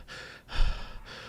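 A voice imitates heavy panting after a hard run, with three long, breathy rasping exhalations, the middle one loudest, close and alone.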